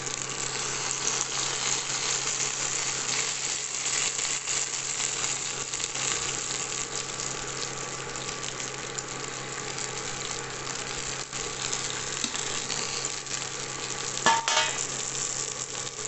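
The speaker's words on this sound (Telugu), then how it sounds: "ఇప్పుడు వంకాయలు ప్యాన్లో వేసేయండి మెల్లిగా." Eggplants (brinjal) frying in a pan for a stuffed brinjal curry give a steady, even sizzle that runs unbroken throughout, with a brief clink of a utensil near the end.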